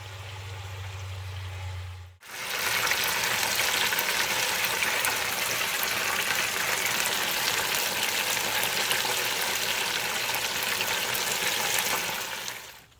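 Buttermilk fried chicken pieces fry in hot oil, a dense loud continuous sizzle that bursts on after a quieter low hum at the start and holds steady until the end.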